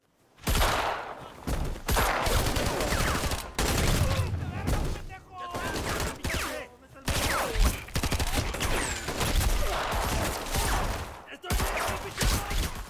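Dense bursts of gunfire crackle almost continuously, with loud shots and shouting voices mixed into the chaotic exchange.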